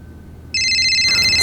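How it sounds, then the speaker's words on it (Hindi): A mobile phone ringtone starts suddenly and rings on loudly with bright electronic tones, no voices. "मेरा फोन बजा ना, मतलब मेरा वाला।"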